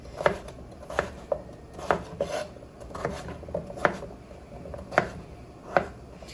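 A knife dicing food on a cutting board, making regular crisp chops roughly every second, close and distinct over a quiet background.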